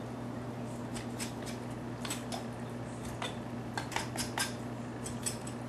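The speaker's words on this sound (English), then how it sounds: "go ahead and peel off or scrape off the meat from the bone" A knife scrapes roasted lemon chicken meat from the bone, giving a run of short, sharp scratching strokes in uneven bursts over a steady background hum, with no talking.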